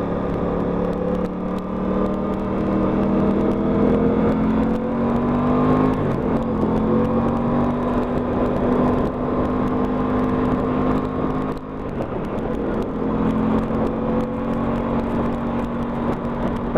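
An Aprilia RS 660 motorcycle engine drones steadily from close by, its tone climbing through the revs in several smooth sweeps, with a brief dip near the end before it carries on, and no voices.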